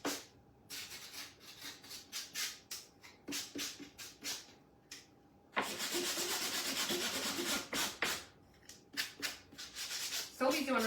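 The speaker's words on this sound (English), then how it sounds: "So we'll just lightly sand over the top and then take our 220 grits to the outside." Hand sanding with 220 grit sandpaper on a festive craft garland: quick, close rubbing strokes come in irregular bursts, with a few brief pauses and then a longer stretch of scraping.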